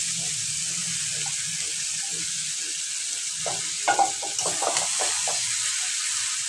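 Fried jackfruit, boiled potatoes and shrimp being stirred together in a pan, with a soft scraping and sizzle in short strokes, quiet overall with a few louder clatters near the end.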